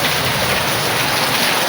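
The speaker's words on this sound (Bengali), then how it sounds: "কিভাবে বৃষ্টি হচ্ছে" Heavy rain pours down in a loud, dense, unbroken roar of drops hitting surfaces, close and constant throughout with no voices.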